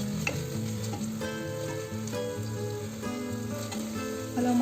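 Ginger garlic paste sizzles and fries steadily in a hot pan, with continuous stirring scrapes throughout and no voices.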